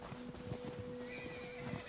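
A horse in the Red Dead Redemption 2 game whinnies and snorts close by, with soft clip-clop hoofbeats underneath, all fairly quiet.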